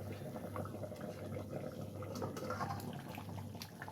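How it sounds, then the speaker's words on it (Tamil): Soft, steady bubbling of thick chicken gravy simmering in a covered pot, quiet and close, with small pops scattered throughout. "குழம்பு நல்லா கொதிக்குது."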